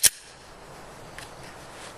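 A Glock 17 pistol fired at steel targets outdoors, a single sharp loud shot at the start followed by a faint fading tail and quiet ambience.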